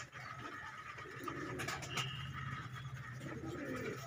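A pigeon coos repeatedly in soft, throaty phrases, close by, with faint background noise.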